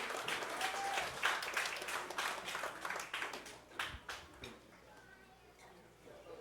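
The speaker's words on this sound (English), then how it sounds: "Let's clap for our own bishop. I think we will clap better for Bishop." A church congregation claps together for a bishop, dense at first and then thinning out, with voices mixed in underneath.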